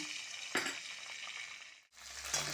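Ginger frying in ghee with whole spices and bay leaf, a close steady sizzle broken by a couple of stirring scrapes and a brief dip.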